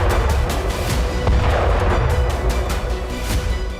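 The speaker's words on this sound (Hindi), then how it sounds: "यही द्रुजबा गैस पाइपलाइन के एक हिस्से में जोरदार विस्फोट हुआ।" Powerful explosion on a section of the Druzhba gas pipeline at Rososhka in Zakarpattia, Ukraine, at night, a loud deep rumbling roar with rapid repeated booming bursts and crackles, sustained and heavy throughout.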